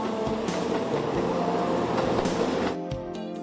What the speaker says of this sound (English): The train is named Asoboi.